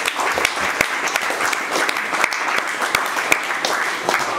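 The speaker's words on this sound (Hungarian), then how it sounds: "óriási tapsot" Live concert audience at the Favágó venue in Szentes applauds steadily, a dense, even wash of many hands clapping with sharper individual claps standing out, continuing throughout with no voices.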